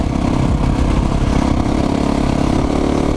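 A Yamaha YZ450F dirt bike engine runs loud and close at an off-highway vehicle park, its rapid firing rumble held at a steady high level with no talking.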